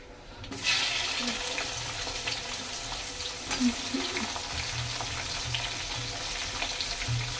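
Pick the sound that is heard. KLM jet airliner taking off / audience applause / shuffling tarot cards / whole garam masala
whole garam masala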